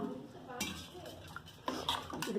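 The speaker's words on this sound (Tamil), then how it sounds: "மோர் ஊற்றி கலந்துக்கலாம்." A spoon stirs buttermilk into cooled pearl millet and red rice porridge (kambu koozh), scraping and clinking against the vessel in a few short bursts, fairly close and soft.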